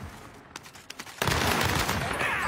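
Gunfire from a shooter video game: a few sparse shots, then a sudden loud burst of dense, sustained firing close up.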